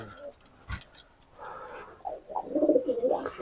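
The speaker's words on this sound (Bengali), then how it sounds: "এটা আছে পিওর একটা গোল্ডেন নর কবুতর আছে" A purebred golden male Pakistani highflyer pigeon coos in soft, rolling bursts that grow fuller toward the end, close by, with faint background voices and rustling.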